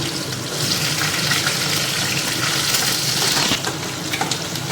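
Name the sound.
asafoetida, onion and garlic frying in pan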